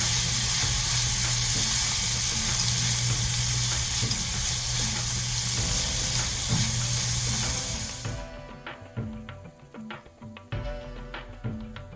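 Half a teaspoon of asafoetida hits hot oil while frying for a Maharashtrian-style aval (flattened rice) breakfast, giving a loud steady sizzle for about eight seconds that then dies away into a few quieter pan clatters, with no talking.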